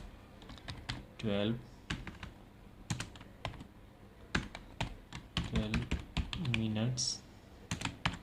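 Keys clatter on a computer keyboard as an ad headline is typed, sharp clicks arriving in uneven bursts between stretches of Hindi talk.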